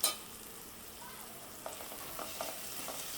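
Red chilli, coriander powder, turmeric and garam masala frying in a pan for palak paneer, a faint sizzle with a few light scrapes of stirring.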